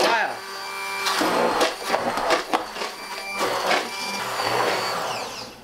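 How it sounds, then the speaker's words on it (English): Immersion blender purees a spring vegetable soup, its motor whirring loudly in uneven bursts and surges as it churns the liquid close by. "And then you immerse and you puree"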